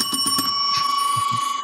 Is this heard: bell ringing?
yes